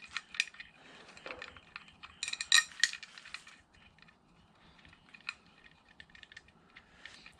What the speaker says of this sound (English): we'll just throw these side cover bolts in loosely.